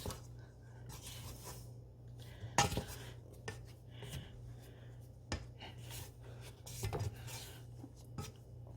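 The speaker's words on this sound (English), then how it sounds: "kind of scrape with the spatula here." A spatula scrapes around a bowl of butterscotch bread batter in short, quiet, uneven strokes with occasional louder knocks, close over a low steady hum.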